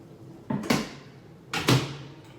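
Kitchen microwave door opened and shut twice, each a pair of sharp latch clacks about a second apart, close by over quiet room noise.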